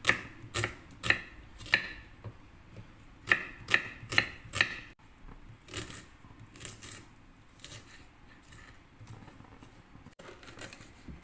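Onion being chopped with a knife on a board for a Filipino sinabawan soup: a quick run of sharp, close, distinct cuts, then softer, scattered taps and a few slower strokes.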